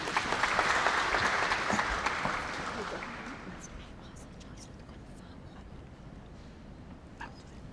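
Graduation ceremony applause from an audience welcoming a Bachelor of Education graduate, loud dense clapping for the first few seconds and then thinning to scattered claps and quiet hall murmur.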